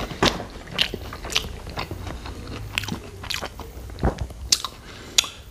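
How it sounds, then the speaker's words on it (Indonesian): Crunchy fried egg martabak mixed with kecubung, papaya and cassava leaves is bitten and chewed up close, giving loud, irregular crunches and crackles with moist squishes between bites. "kita langsung cicipi ya, cobain"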